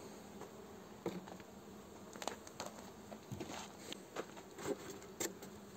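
A soft, steady hum of honey bees buzzing around an opened hive, close but faint, with occasional light knocks and rustles.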